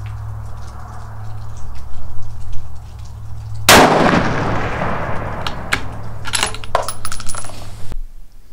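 A rifle fired at an outdoor target range, with a sharp loud shot near the middle followed by a few fainter cracks and clanks over a steady background hum.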